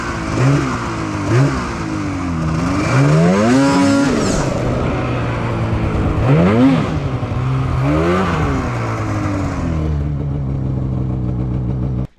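A snowmobile engine revs hard and repeatedly while riding a side hill drop in deep snow, loud rising and falling whines with throttle bursts, close and continuous, fading out at the end.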